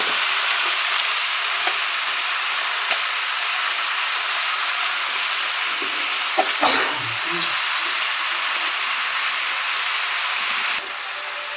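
Chicken for a salted chicken fry (uppu kari) sizzles in a pan as a loud, continuous frying hiss, broken midway by a brief clatter of stirring before the steady sizzle resumes.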